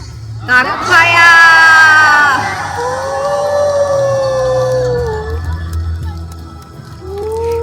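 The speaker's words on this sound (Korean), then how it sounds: "저희도 함께 외치면서 낙화를 감상할 수 있었어요" A crowd at Andong's Nakhwa fire-falling festival raises a loud, sustained collective shout that rises together and then tapers into a long, wavering cry, with a scattered voice joining near the end.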